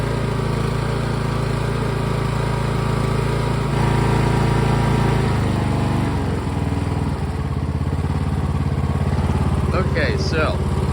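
A riding lawn mower engine idles steadily in a continuous low drone, its pitch and texture shifting slightly partway through, with brief higher chirps near the end.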